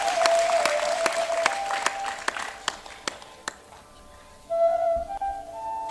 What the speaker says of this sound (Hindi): यहाँ से वहां तक पूरा सदन एक बार तालियों से मुझे आदेशित करे